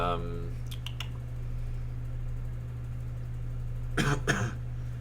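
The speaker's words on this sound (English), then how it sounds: "Delayed cough." Two quick coughs near the end, moderately clear over a steady low hum and a few faint clicks earlier.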